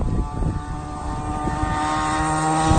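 A 49cc mini moto engine runs flat out at full speed, a loud, steady, buzzing drone with a rising whine that holds throughout, with no talk.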